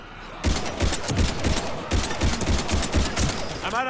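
Rapid bursts of automatic gunfire from the Mass Effect 3 video game crackle in a dense, repeated fusillade, loud and close, continuing without a break for several seconds.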